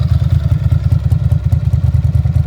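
A motorcycle engine idles close by with an even, rhythmic low putter, each pulse evenly spaced and steady throughout.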